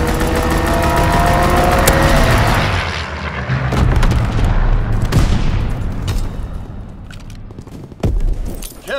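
Call of Duty WWII fighter aircraft strafing run: loud, dense bursts of gunfire and booming impacts roll through the first seconds, then thin into scattered cracks and blasts, with a sharp burst near the end.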